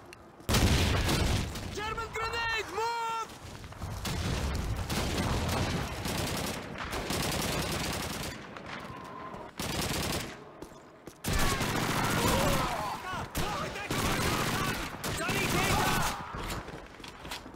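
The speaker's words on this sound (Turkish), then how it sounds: "Kim attı oğlum bu kadar bombayı ya?" Grenade explosions and gunfire in the video game Call of Duty 2, with dense bursts of shots and blasts that come in waves with brief lulls, loud and close.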